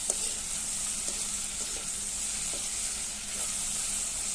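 Fish curry with elephant apple and potato sizzles steadily in oil in a pan while being stirred, with soft scraping touches over a continuous close hiss.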